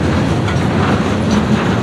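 CSX freight train of trash cars rolling past up close, a steady loud rumble with rhythmic wheel clatter over rail joints throughout.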